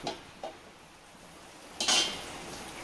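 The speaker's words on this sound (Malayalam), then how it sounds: "ഇത് മൂടി വെച്ച് കൊടുക്കാം" A metal lid is set down over a pan on the stove with a clattering clink, preceded by a couple of soft knocks in an otherwise quiet kitchen.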